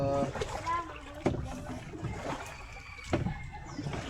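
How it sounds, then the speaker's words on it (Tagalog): A boat is paddled by hand on water, with soft splashes and dips of the paddle at irregular intervals, faint and close, while people talk throughout. "sinasagwan pa lang namin"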